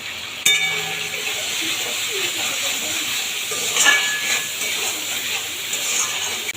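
Curry of duck eggs with potatoes and onions hisses and spatters in a hot pan after salt goes in, a steady loud sizzle with a sharp burst of spitting near the start and crackles throughout.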